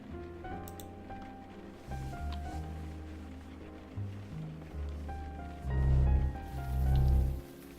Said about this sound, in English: A quiet night, despite the rain.